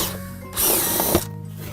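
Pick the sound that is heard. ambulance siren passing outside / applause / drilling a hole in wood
drilling a hole in wood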